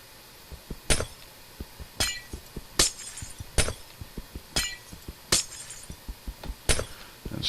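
Glass blocks shatter one after another in Minecraft, roughly eight crisp breaking clinks at a steady rhythm, interleaved with quieter tapping hits, close and clear with no talk.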